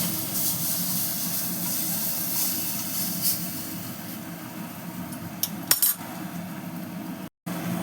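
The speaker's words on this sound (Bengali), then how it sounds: "ভালো করে ভেজে নেব।" Prawns coated in salt and turmeric frying in a pan, a steady broadband sizzle and hiss running throughout with a few brief clinks near the end.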